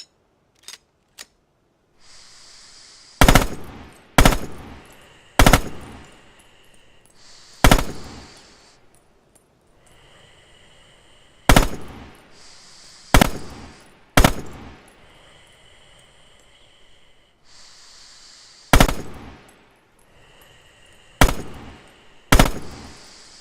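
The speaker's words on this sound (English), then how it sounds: "Open fire downrange, small bursts." Short bursts of machine gun fire from Red Orchestra 2, about ten sharp loud cracks spaced a second or two apart, each followed by a brief decaying tail, with a faint mechanical hum between bursts and two small clicks at the start.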